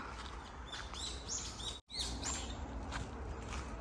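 Several birds chirp and tweet in quick, bright bursts against a steady outdoor hiss in Seoul, Korea, with a brief dropout of sound midway.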